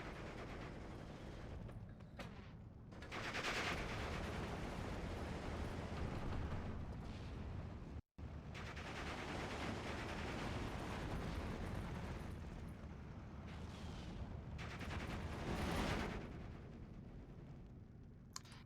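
Mortar fire landing in a Steel Division II battle: continuous rumbling barrages with repeated heavy blasts and surges, fairly faint and distant, filling the scene with no voices.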